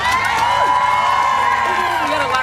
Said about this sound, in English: You got a louder cheer than me